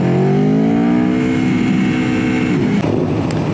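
An Aprilia RSV4 RF motorcycle engine revs up under load while riding, its pitch climbing steadily then leveling into a loud, sustained roar with wind noise, heard up close and continuous.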